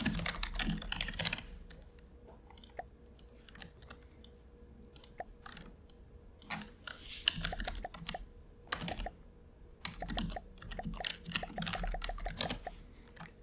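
Rapid bursts of typing on a computer keyboard, clattering keys in uneven flurries separated by short pauses, close and fairly loud, with no talking.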